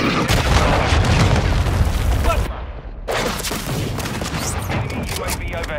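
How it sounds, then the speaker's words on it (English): A cruise missile strike in Call of Duty: Modern Warfare 2 multiplayer, with heavy booming blasts and rumbling debris that fill the mix, briefly cut off, then a rolling, crackling aftermath with distant game chatter. "Hostile cruise missile incoming."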